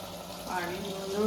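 Water streams into a cooking pot being filled for a homemade dry-cough kadha, a continuous splashing pour that grows slightly louder and fuller toward the end.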